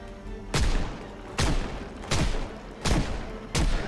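Five loud, sharp shots from a Magnum handgun in the Project Zomboid video game, fired at a steady pace with short decaying tails and a low background hum between each report.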